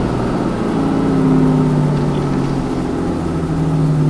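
A 2012 RAM 3500 Crew Cab pickup's engine running at high RPM, a loud, steady drone with strong low harmonics that holds for a few seconds, heard from inside the cab.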